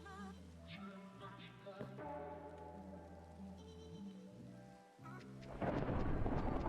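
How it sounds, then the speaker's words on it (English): Deep thunder from a thunderstorm rumbles low and faint beneath music, then a louder, harsher burst of rain and thunder swells near the end. "Wow, that thunder is really it's thundering whenever I want to speak."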